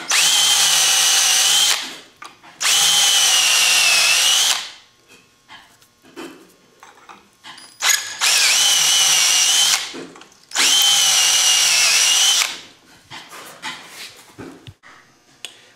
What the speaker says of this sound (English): And I just drill each one of them.